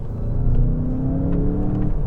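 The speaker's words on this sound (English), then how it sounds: "for a road like this, it's nice to hear that engine" A 2019 VW Jetta GLI in sport mode revs its engine on a downshift, a steady throaty rumble heard from inside the car, moderately loud with no talk.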